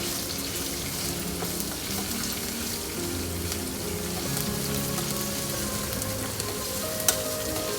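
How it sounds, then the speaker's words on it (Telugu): Lentils with green chillies and ginger garlic paste fry in a pan for a bitter gourd curry, giving a steady, dense sizzle close by with occasional stirring, and no voices. "ఇవి కొంచెం ఫ్రై అయిన తర్వాత అల్లం వెల్లుల్లి పేస్ట్ వేసి కూడా కలుపుదాము"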